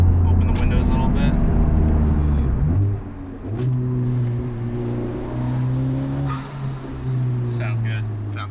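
A Honda Civic Type R FL5 with a bolt-on turbo, exhaust and intake, its 4-cylinder turbo exhaust giving a steady, deep droning hum inside the cabin with the windows slightly open, swelling slightly after a brief dip.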